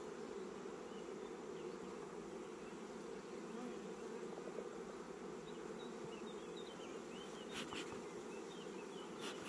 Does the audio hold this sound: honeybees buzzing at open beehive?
yes